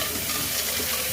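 Rice for Jamaican-style rice and peas is washed under a running tap, with a steady, loud hiss of flowing water splashing into the pot.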